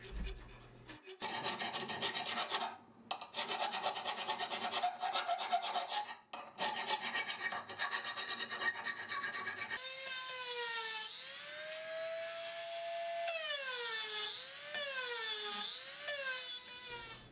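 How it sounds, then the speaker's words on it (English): Hand files rasp across a steel santoku knife blank, steady scraping strokes close up, with a whining power tool taking over partway through and rising and falling in pitch. "Now I'll be using files to smooth out some of the curves and to get to some of the hard to reach places."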